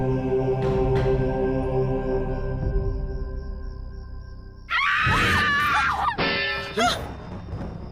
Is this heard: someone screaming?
yes